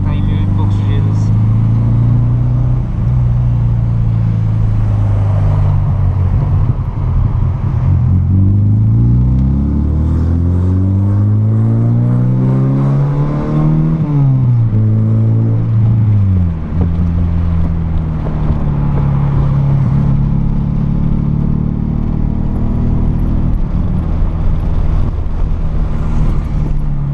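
VW Golf MK3 running without mufflers, a loud, rumbling exhaust drone that rises and falls with revs during a drive, with wind noise and occasional voices in the cabin.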